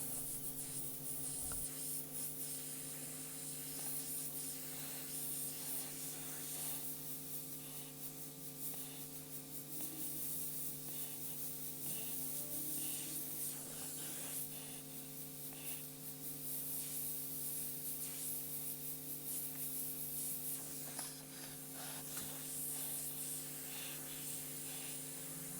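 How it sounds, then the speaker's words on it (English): An airbrush sprays paint while a Joker face is being painted, giving a faint, steady hiss that runs the whole time over a low electrical hum. "I'm just going to spray over some of that eyebrow section where those highlights are"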